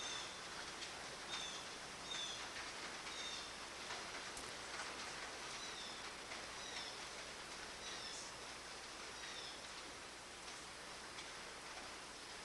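Rain falls steadily as a faint, even hiss throughout, with a few distant bird chirps scattered through it.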